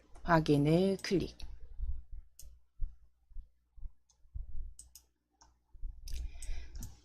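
A mouse clicks the OK button in an Excel spreadsheet: a few short, sharp clicks follow a brief voice at the start, with quiet pauses between them.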